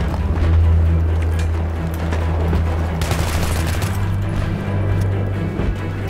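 Gunfire rattles in the Battlefield 3 video game during a team match, bursts of automatic shots layered over a constant engine rumble, loud and close throughout, with no clear talk.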